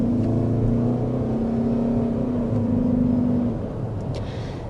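Steady engine hum from a Toyota Grand Highlander hybrid's gasoline engine, a smooth low drone running continuously, then easing slightly quieter near the end.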